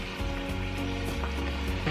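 Aromatics for pho, such as ginger and garlic, drop into a hot pot and sizzle steadily and crackle up close, with no voices.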